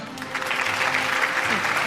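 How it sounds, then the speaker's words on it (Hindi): An audience applauds at a televised award show in Lahore, a dense steady wash of clapping that stays even for a moment, with faint voices mixed underneath. "आपकी भरपूर तालियों में ख़ातिन और हज़रात"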